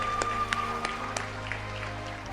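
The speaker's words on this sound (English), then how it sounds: "let's clap for that" An audience at an awards gala gives continuous applause, a dense patter of clapping at moderate distance with a low hum underneath, and no one speaks over it.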